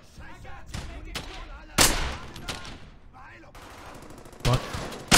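Gunfire in the WWII shooter Brothers in Arms: Hell's Highway, with a few loud bursts and scattered shots between quieter battle noise, while someone speaks over it.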